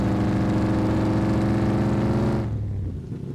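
A top-heavy Ford Bronco doing a one-wheel peel gives a loud, raw engine roar that revs hard and steady for over two seconds, then drops off quickly as the throttle is released.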